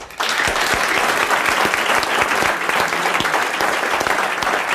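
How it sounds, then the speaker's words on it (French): Studio audience applause for a winning contestant on a French radio-TV game show, a dense, steady wash of many hands clapping that starts abruptly and holds loud and even throughout. "Vous l'applaudissez."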